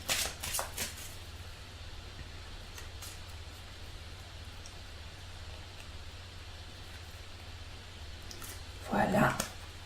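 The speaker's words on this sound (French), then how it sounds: "on va tirer une carte du tarot pour éclaircir et avoir un conseil avec ce tirage" Tarot cards shuffled and drawn at a table: soft papery riffles and slaps near the start, a quiet stretch, then another brief flurry of card handling near the end.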